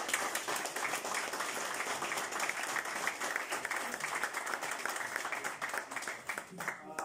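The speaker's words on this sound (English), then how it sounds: "So give them a big round of applause." Sustained applause from a crowd at a sports club's end-of-season awards presentation, a dense, even wash of clapping that holds steady throughout with a faint voice underneath.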